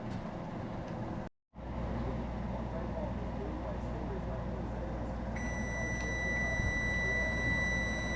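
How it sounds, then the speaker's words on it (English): A kitchen timer buzzer on a stove sounds off with a steady, high electronic tone that sits over continuous background noise and runs on without a break. "Buzzer."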